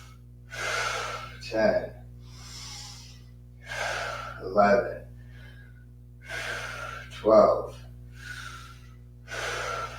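Rapid, deep Wim Hof breaths during a yin yoga breathwork session: forceful inhales and exhales repeat every few seconds over a low steady hum while a voice counts aloud.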